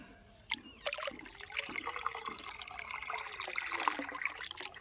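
Water poured into a catfish farming tank, a continuous splashing trickle that starts after a soft knock and runs steadily at close range.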